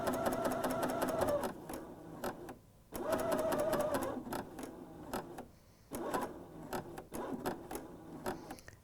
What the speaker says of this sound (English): I sew a couple stitches over the first stitches